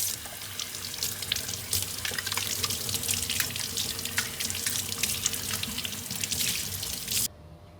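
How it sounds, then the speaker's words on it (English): Cold tap water runs steadily as an espresso machine portafilter, dispersion screen and basket are rinsed of coffee cleaner, a continuous close splashing hiss that cuts off abruptly near the end. "rinse off that little residual coffee cleaner from the portafilter, the dispersion screen, and the basket under cold,"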